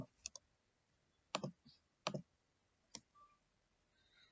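A computer mouse clicks several times in a quiet room, with sharp, isolated clicks spaced unevenly: a double click near the start, then single clicks around the middle and one more later.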